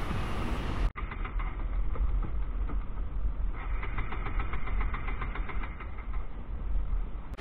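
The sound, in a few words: Bajaj NS200 motorcycle engine jerking as petrol runs out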